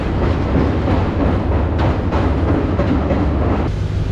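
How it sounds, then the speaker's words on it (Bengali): A train on a scenic North Bengal route through hills, forest and rivers, heard as a continuous loud rumble with rolling clatter from the carriage, steady throughout with no voices. "আজ আপনাদের যে ট্রেন জার্নিটা দেখাবো"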